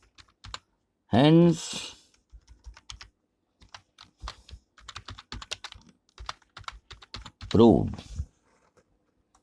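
Typing on a computer keyboard while writing out a Pythagorean theorem proof: scattered quick key clicks in short runs, close and crisp, between stretches of someone speaking Hindi.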